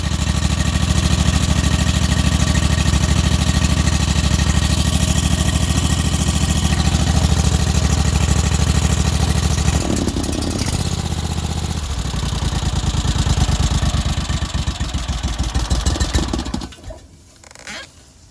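A rebuilt Honda GX690 engine on a wood chipper idles steadily and loudly up close, with a brief shift in tone midway before it winds down and stops near the end.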